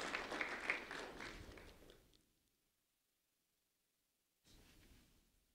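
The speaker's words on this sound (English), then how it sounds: "A round of applause for Larissa Elford" Applause for a fourth-grade student at an elementary school ceremony, a brief burst of clapping that fades out after about two seconds, followed by silence and then a short, quieter return of room sound.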